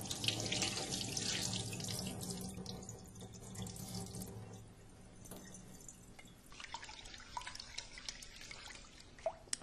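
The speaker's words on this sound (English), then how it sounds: "I'm going to wash this until the water runs clear." Short grain rice rinsed by hand under a running kitchen tap, water splashing and trickling into a sink, close and steady with some drips near the end.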